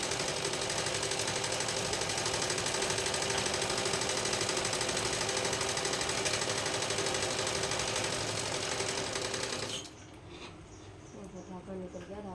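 A sewing machine stitches a suit with a dense, rapid mechanical whir that runs steadily and loud, then cuts out, leaving quieter intermittent rattling.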